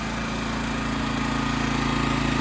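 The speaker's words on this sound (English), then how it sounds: "Seems like it's idling just fine." Honda EX1000 portable generator engine idling steadily, a close, loud, even low drone with a fast regular pulse and no change in speed throughout.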